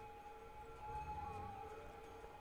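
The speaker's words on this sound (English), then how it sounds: "there's an ambulance." A faint wailing ambulance siren from the city-building game Cities: Skylines drifts along steadily in the distance, with no voices over it.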